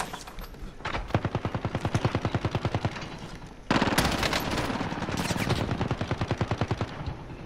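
Automatic gunfire in a Call of Duty: Modern Warfare match, with long rapid bursts of loud, closely spaced shots that pause briefly and then resume as a denser barrage.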